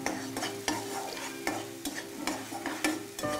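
Spicy atta bread balls being stir-fried in a pan, with steady close sizzling broken by regular scraping strokes of a spatula, no talk.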